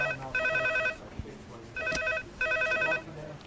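Telephone ringing in repeated electronic trilling bursts, three clear rings with short gaps between, close and fairly loud, with a small knock between rings.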